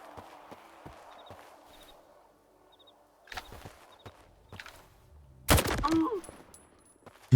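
Gunshots from a Dnipro rifle firing 7.62×54 ordinary rounds in a video game, a few faint scattered reports early, then one loud, sharp blast near the end with footsteps and quiet background movement.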